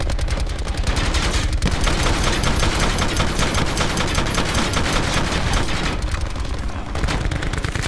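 Rapid, dense automatic gunfire from the video game Call of Duty: Black Ops, loud and continuous bursts with a brief gap near the end, overlapping shots throughout.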